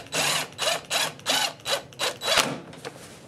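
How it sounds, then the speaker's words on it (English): A power drill bores holes for 6/32 screws along the straight edge of a boat's banded top. The motor whirs in about seven short, evenly paced bursts, loud and close, with no voices. "I can drill a couple holes at a time."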